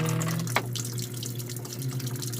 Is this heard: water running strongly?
yes